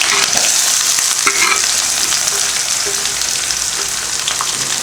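Onion, cardamom, cloves and cinnamon fry in hot oil for Chettinad mutton chukka, making a loud, continuous crackling sizzle up close, with occasional scrapes of a spoon stirring through the pan and no talking.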